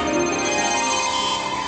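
A mobile phone rings with a steady, continuous electronic tone that fills the short stretch on its own, fairly loud and without any voices.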